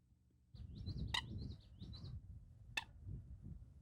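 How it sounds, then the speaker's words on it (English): A common moorhen in a freshwater marsh gives short, repeated chirping calls, with a few sharp clicks, heard close and alone over a soft low background. "the common moorhen is only a summer visitor in the Northeast"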